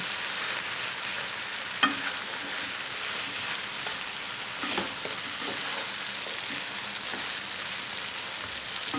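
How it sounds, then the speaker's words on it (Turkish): Minced meat and zucchini stirred gently in a pan, giving a steady soft sizzle with light scraping and a few small clicks, close and continuous with no talk. "Şimdi şöyle güzelce çok hafif karıştırıyorum."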